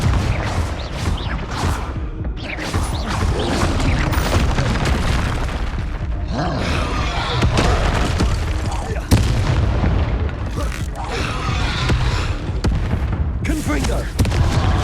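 Confringo blasting spells go off repeatedly in the Hogwarts Legacy game, with loud, close booms and explosive bursts in a rapid, irregular barrage. A deep rumble runs beneath, and voices come and go among the blasts.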